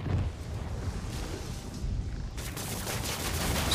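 Shotgun fire in a Spider-Man video game comes as dense, booming blasts that rumble over a few seconds, with a sharper burst near the end.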